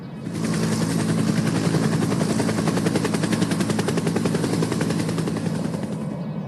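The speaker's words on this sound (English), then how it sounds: "Why is the police helicopter here for?" A police helicopter holds a steady, rapid rotor chop that stays loud and constant overhead throughout, with no voices.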